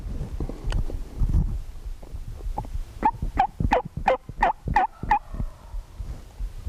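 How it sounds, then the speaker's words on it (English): A wild turkey gobbles in a rapid rattling burst of several sharp notes, fairly close and loud over faint background noise. "Hear that gobbler?"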